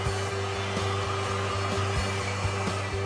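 A heat gun warms vinyl wrap film over curved surfaces, blowing a steady, even whir with a faint rhythmic pulse, fairly quiet and alone.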